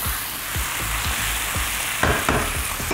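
Chicken cooking with spices for soto ayam, a loud continuous sizzle close up, punctuated by rhythmic scraping stirs and a couple of sharper spatula knocks near the end, no speech.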